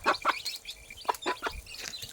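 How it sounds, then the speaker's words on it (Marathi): A hen makes a run of short, soft clucks in quick, uneven bursts, calling her chicks to eat, close by, with no voices over them. "कोंबडी कशी चोच मारून बोलवते खाण्यासाठी पाहते"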